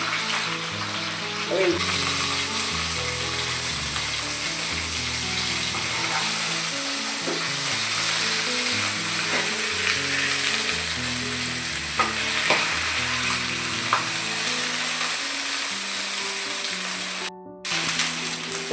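Pieces of chicken fry in a pan with a steady, loud sizzle that runs almost without a break, joined by occasional stirring and scraping clatter and a faint background hum. The sound cuts out briefly near the end.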